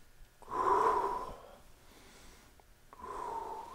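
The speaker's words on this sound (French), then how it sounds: "On va respirer. On fait les grandes respirations." Two slow, deep breaths taken to calm down, each a long airy inhale or exhale, close and soft, separated by a quiet pause.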